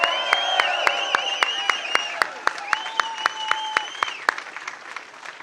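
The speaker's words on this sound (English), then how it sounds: "Let's give them a round of applause." A rally audience in Bensalem, Pennsylvania, applauds police and local officials with sustained clapping and scattered sharp claps, while a voice carries on over it at the start and the cheering gradually fades.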